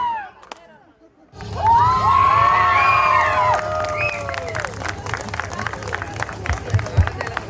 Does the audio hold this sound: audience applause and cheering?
yes